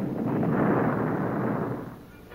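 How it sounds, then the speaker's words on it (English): A loud, deep rumbling blast from a gas cannon explosion that swells and lingers for about two seconds before tapering off, with no voices. "There's an explosion"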